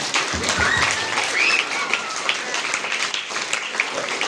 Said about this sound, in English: please give a big round of applause to our parents